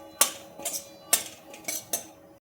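Grated coconut is added to a pan and roasted, giving a short series of about five crisp spoon clinks and scrapes against the metal, close and distinct, ending abruptly.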